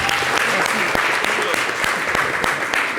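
Audience applause for a singer after a song at a televised comedy show, a loud, sustained wash of many hands clapping with sharp individual claps, close and continuous without talk.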